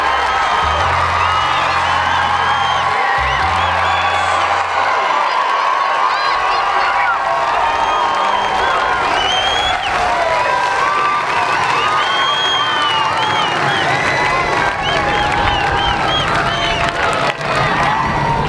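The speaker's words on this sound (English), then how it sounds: "I'm gonna get the reaction of the whole crowd for you guys though" A large outdoor crowd cheers, whoops and shouts continuously at the finish of an America's Cup sailing race, loud and sustained, with some low thumps early on.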